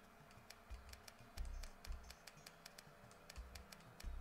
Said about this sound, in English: Apologies when you hear the clicking of my D-pad.